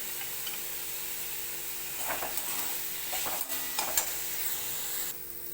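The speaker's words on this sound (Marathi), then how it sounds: "आता भाजून कांदा पण आता चांगला आपला भाजत आलाय" Onion roasting in a pan gives a soft, steady sizzle up close, with intermittent spoon scrapes and stirring clatter through the middle before the sound drops slightly at the end.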